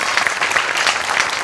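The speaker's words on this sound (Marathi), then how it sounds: "त्याच्यासाठी पुन्हा एकदा तुझ्यासाठी टाळ्या" An audience claps for a performer in a comedy show, a brisk burst of many hands clapping close and loud, without a pause.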